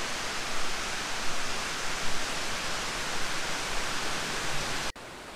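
Salopa waterfall in Indonesia pours in a loud, constant broadband rush of falling water that stays even until it cuts off abruptly near the end.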